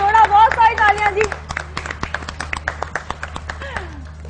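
A morning TV show's studio audience breaks into clapping right after a voice speaks, the claps coming as a loose, uneven patter of distinct hand strikes rather than a dense roar.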